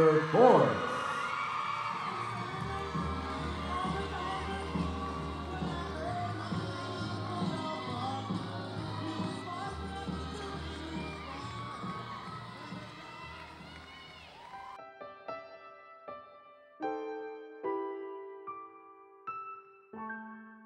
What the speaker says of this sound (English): Ladies and gentlemen, give a big round of applause from Sarasota, Florida, Fantastic Flyer